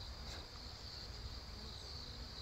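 Native honeybees fly around a square wooden hive box, producing a faint, steady buzzing drone outdoors with no talk.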